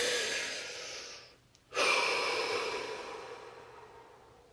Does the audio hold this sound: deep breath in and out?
yes